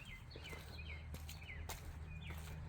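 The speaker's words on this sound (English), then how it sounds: "You hear the birds?" Birds sing outdoors in short, clear chirping phrases repeated through the moment, set against a steady low background hum, with a couple of sharp taps or knocks in between.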